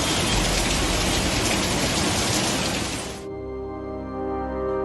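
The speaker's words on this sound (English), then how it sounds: "Heavy rain triggered mountain floods in Shangyang County, Shaanxi Province" Heavy torrential rain pounding down during mountain floods in Shangyang County, Shaanxi, China, a loud dense roar that cuts off abruptly into a quieter, tonal hum.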